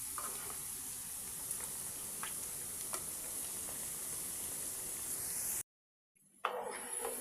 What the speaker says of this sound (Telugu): ఇలా కలబెట్టుకుంటూ వేయించుకోండి, ఎందుకంటే అడుగు పట్టేయకుండా ఉంటుంది.